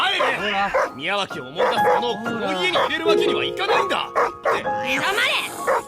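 A dog yips, whimpers and barks in quick bursts, close and fairly loud, while voices speak over and between the barks.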